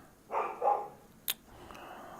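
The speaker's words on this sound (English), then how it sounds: "It's not my dog, it's a neighbour's dog. Big dog, but come on." A neighbour's big dog lets out two loud, close barks in quick succession, followed by a sharp click and quiet background.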